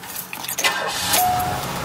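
A one-owner 1991 Cadillac Sedan Deville is restarted after being put in park: a short rattle of keys and clicks, then the engine catches with a brief rising burst before settling into a smooth run.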